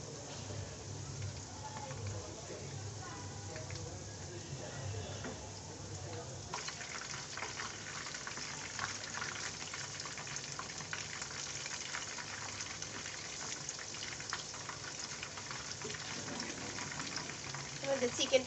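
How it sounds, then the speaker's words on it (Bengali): Chicken deep-fries in oil, Chinese restaurant style, giving a continuous crackling sizzle that grows noticeably busier and louder partway through and keeps bubbling steadily to the end. "আমাদের চিকেনটা ভাজা হচ্ছে"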